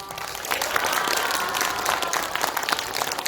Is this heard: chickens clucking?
no